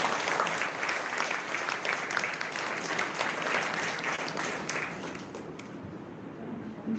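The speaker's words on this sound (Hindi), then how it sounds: "ताली बजाइए।" An audience claps steadily at a spiritual class gathering, a dense, even wash of many hands that continues for several seconds and thins slightly near the end, with no speech over it.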